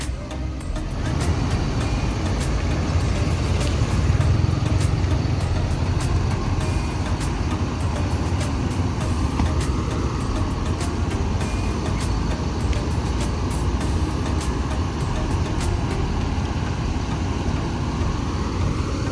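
ANS intercity buses arriving from Java, heard as a continuous, loud roadway rumble of heavy diesel engines and passing traffic, steady throughout with no voices.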